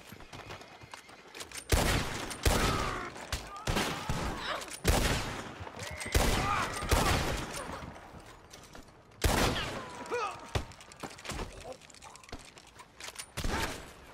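Gunfire in Red Dead Redemption 2 during a wanted-outlaw chase, with bursts of sharp shots and mechanical clatter arriving in irregular clusters, loud and close, while voices shout faintly in between.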